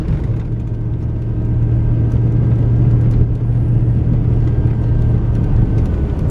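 A car driving up the main road of a rural ranch property in the early morning, heard from inside as a loud, steady engine rumble with a constant low drone and road noise throughout.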